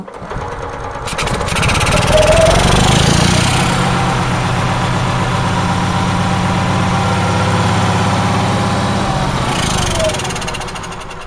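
A small generator engine with a faulty auto choke, hand held over the carb, cranks and fires up, then settles into a steady, loud, close running drone that fades slightly near the end.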